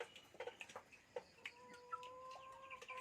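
Chickens cluck in quick, scattered bursts close by, with a soft crowing-like tone drawn out near the end, all fairly faint over a quiet background.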